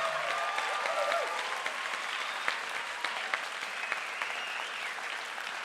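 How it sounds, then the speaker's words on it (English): An audience claps steadily for a judge at a poetry slam event, a dense, even wash of applause with a few sharper claps standing out, no voices over it. "Put your hands together for Diane Ponte."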